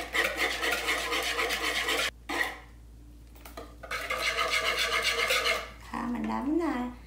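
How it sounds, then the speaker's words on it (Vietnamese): Sugar and eggs are whisked by hand in a bowl, a quick rhythmic scraping and clinking close by, pausing once partway and then going on, while someone talks over the end. "Mình đánh đường và trứng cho nó tan thế này là được rồi các bạn."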